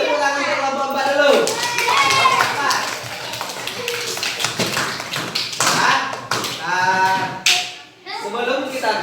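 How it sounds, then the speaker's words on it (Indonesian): Students in a classroom clapping for a group, irregular hand claps mixed with children's voices and chatter, close and fairly loud. "beri tepuk tangan untuk kelompok 4 dulu"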